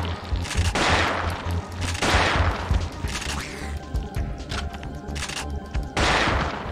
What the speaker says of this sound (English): I love my shotgun